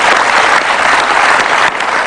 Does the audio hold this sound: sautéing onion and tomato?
no